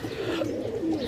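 A pigeon, one of a group kept for sale in Sarai Alamgir near Jhelum, gives a soft, close, continuous low coo for about a second, with no talk.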